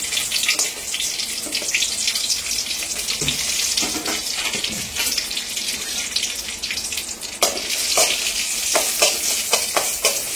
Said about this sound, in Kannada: ಅದು ಫಸ್ಟ್ ಮೆಣಸು ಹಾಕಿ ಮೆಣಸು ಬಿಸಿ ಮಾಡ್ತೇನೆ